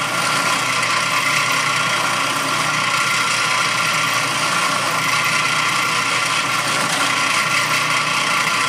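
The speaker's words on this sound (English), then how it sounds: "So that's drilling a larger diameter hole with the drill press." A drill press bores a large-diameter hole through a wood board, giving a steady whirring motor drone with gritty cutting noise that holds evenly and loud for several seconds, with no talking.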